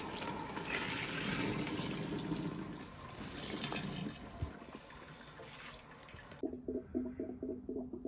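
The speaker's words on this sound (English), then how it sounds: "after recirculation, I'm just sparged. And you can see, yeah, that flows really nicely." Wort running from the mash during sparging for a home-brewed Kveik Pacific pale ale, a steady close splashing flow of liquid that thins to a lighter trickle near the end.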